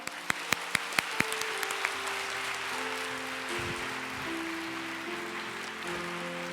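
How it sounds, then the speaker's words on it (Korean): A church youth congregation bursts into applause of thanks after a personal testimony: a few sharp early claps swell into a steady, sustained wash of clapping, with a faint held musical tone running beneath. "우리 귀한 간증 나눠준 우리 박 형제 다시 한번 감사의 박수 드리면 좋을 것 같습니다"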